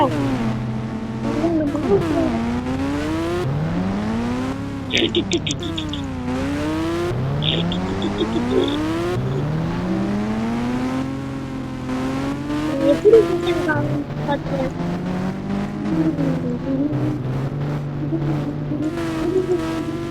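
A car engine in the mobile game Indian Bikes Driving 3D revs up and down repeatedly over about twenty seconds, with rising and falling whines and brief tire-squeal bursts, and people talking at times.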